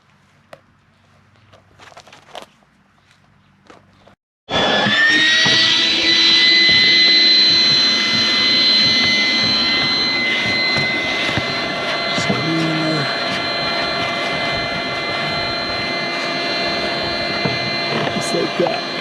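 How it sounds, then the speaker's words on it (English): After a few seconds of quiet handling, a small shop vac starts abruptly and drones loudly and steadily. It whines at a high pitch while it sucks debris out of the inside of a 2014 Ford F-150 door. "I'm gonna use a little shop vac"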